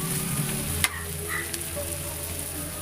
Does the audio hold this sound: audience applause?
no